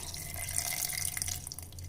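Water pours steadily into jamun (Indian blackberry) fruit pulp while making juice, a continuous close splashing and trickling stream with no talk.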